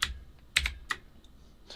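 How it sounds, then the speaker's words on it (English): Keys on a Redragon Vata mechanical keyboard, the function key and the arrow keys, being pressed: a few crisp, separate clacks, close and fairly quiet, spaced irregularly over a couple of seconds. "you press the function key, and then you can cycle through the colors using the arrow keys"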